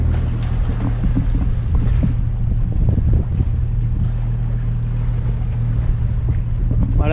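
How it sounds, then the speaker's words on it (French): Steady wind rushes across a sailboat at sea during a crossing from Palinuro toward the Aeolian Islands and Stromboli, with a low, constant engine drone underneath and no talking. "Voilà le vent revient."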